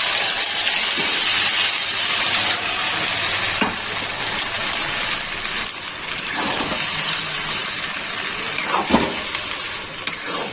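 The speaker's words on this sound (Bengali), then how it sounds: "তেল গরম হয়ে গেছে। এবার আমি এই পুরটাই তেলের মধ্যে দিয়ে দেবো।" Green pea filling for koraishutir kochuri frying in hot oil, a loud, steady sizzle and hiss with occasional stirring scrapes throughout.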